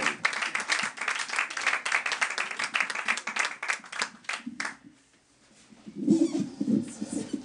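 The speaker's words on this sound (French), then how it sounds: "mesdames et messieurs, on applaudit chaleureusement Jérôme, qui est la première fois" Audience clapping at a poetry evening, a brisk, close spatter of hands that thins out and drops nearly silent around five seconds before a brief burst of sound returns.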